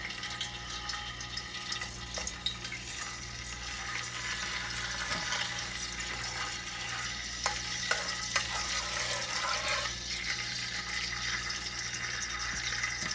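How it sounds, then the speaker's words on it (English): Hot oil for sofrito sizzles steadily in a pan, a soft continuous hiss with scattered small crackles and pops, fairly quiet and close. "It's starting to sizzle, so it's starting to get to that heated temp that I want."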